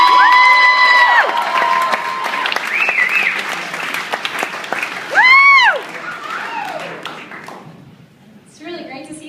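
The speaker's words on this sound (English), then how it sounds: "keep your applause going for your next comedian" A comedy club audience applauds and cheers between comedians, loud continuous clapping topped by rising whoops and shouts from the crowd, with voices mixed throughout.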